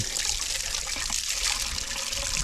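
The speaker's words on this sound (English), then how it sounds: "I'm going to continue flushing this" Water from a hose gushes steadily through an Olds Rocket 350 engine block during flushing, a continuous loud hissing splash with no pauses and no voices.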